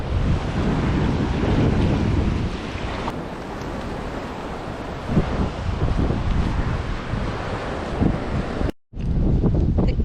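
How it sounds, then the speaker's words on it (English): Ocean waves break and wash up a beach on a cold day, a loud continuous roar of surf with heavy wind buffeting the microphone and one brief dropout near the end. "She's running when the waves come up."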